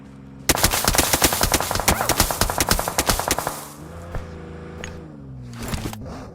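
Rapid automatic gunfire from a PUBG Mobile match on the Miramar desert map, a loud dense burst of closely spaced shots lasting about three seconds, then quieter scattered sounds and a faint later shot.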